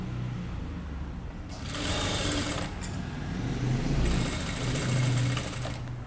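A sewing machine stitches along the edge of a kurta in two quick bursts of rapid, whirring needle strokes, close and moderately loud, with quiet pauses between them.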